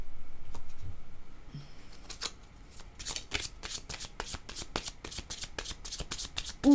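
A deck of oracle cards is shuffled close up, a rapid run of crisp riffling snaps and flutters building after a few soft hand movements.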